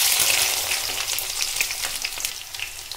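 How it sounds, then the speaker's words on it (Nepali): Onions fry in mustard oil in a pan, a loud, dense crackling sizzle throughout with faint stirring taps mixed in; nobody speaks. "प्याजलाई ब्राउन कलर हुँदासम्म मैले एकछिन भुन्छु।"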